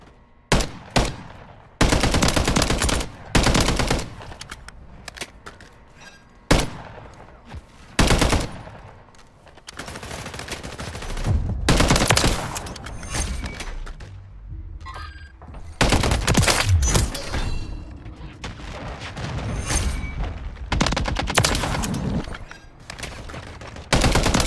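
Gunfire from an MTZ 762 rifle in the video game Modern Warfare 3, loud rapid bursts of shots with short pauses between them, plus sharp impact effects, heard alone without talk.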